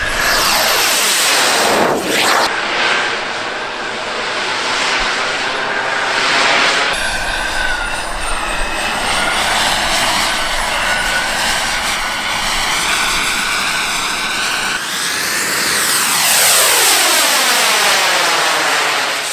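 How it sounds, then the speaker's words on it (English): An ultralight turbine-powered vector-thrust J10 model jet flying aerobatics, its loud continuous turbine whine and roar shifting in pitch as it passes and maneuvers, with a high tonal whistle over the rush. "This is my ultralight turbine-powered vector thrust J10, and it can do crazy stuff like this."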